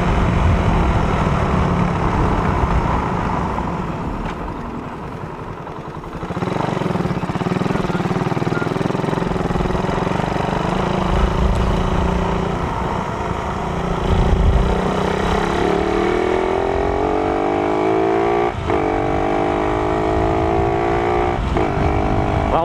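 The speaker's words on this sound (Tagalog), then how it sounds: "Rouser 200 lang yata yun. Pero lakas ha." A Bajaj Pulsar Rouser 200 motorcycle passes loudly on the road, its engine roar swelling near and then pulling away as the revs climb, steady and dominant with no talking.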